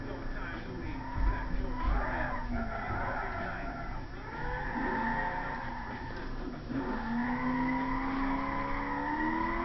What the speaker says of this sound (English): Let's do a burnout and see how this sounds.